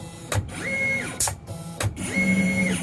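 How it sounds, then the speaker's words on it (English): A large electric mat cutter runs in short bursts, giving mechanical whirring strokes that ramp up and down with sharp clicks between them, loud and close, with no talk. "This is a super massive electric"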